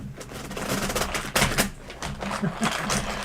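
Rapid, crisp clicks and riffling flutters of tarot cards being shuffled nearby, in quick irregular bursts with a faint murmur behind.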